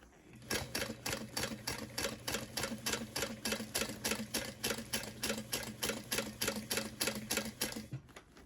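A sewing machine stitching an iPad sleeve runs in a fast, even mechanical rhythm of clattering needle strokes, close and loud, for about eight seconds before stopping.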